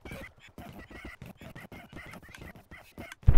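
Horses at a horse camp neigh and whinny in quick repeated bursts, close and fairly loud, with a sharp thump at the end.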